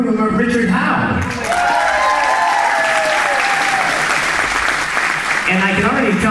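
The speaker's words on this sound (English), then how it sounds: "big round of applause" Wedding guests at a reception at the Westford Regency burst into loud, sustained applause lasting the whole stretch, a dense wash of clapping from a large crowd with some voices mixed in.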